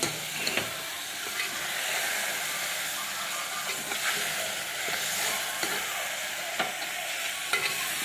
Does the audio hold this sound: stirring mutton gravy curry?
yes